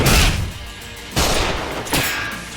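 Gunfire erupts in the action game Judgment: three loud, broadband bursts of shots and impacts, each striking sharply and then trailing into a dense, ringing wash.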